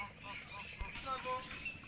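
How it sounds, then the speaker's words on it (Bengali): Ducks honking and quacking at dusk in a Bangladeshi village as the flock heads home, scattered calls over steady outdoor background noise. "এখন বাড়ির দিকে যাইতেছে হাঁসেরা"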